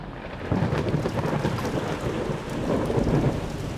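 Heavy rain and rolling thunder during a thunderstorm in Singapore, a dense roaring downpour with low rumbling swelling in two waves, loud and continuous with no voices.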